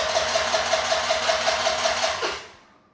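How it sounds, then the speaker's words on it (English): A Vespa ET4 scooter's electric starter cranks the engine against compression, a steady rapid chugging whir with regular pulses, close and loud, before cutting off and fading near the end. "that turning over, you can hear the starter fighting the compression"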